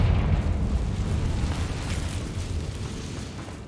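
A Confringo fire spell explodes in the video game Hogwarts Legacy, a loud, deep, rumbling boom that roars at once and then slowly fades over a few seconds, with no voices.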